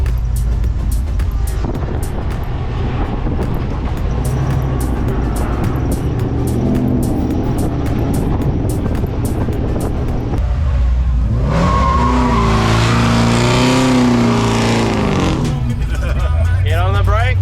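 Cars doing burnouts at the Summernats car festival, engines revving hard and roaring continuously with tyre squeal, loud and close, with a crowd and people talking over the din.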